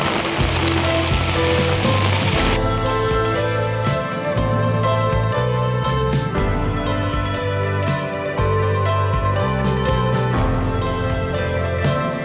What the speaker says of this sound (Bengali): পুরো একদম চরম বৃষ্টি পড়ছে